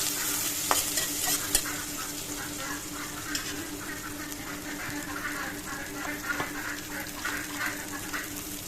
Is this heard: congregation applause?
no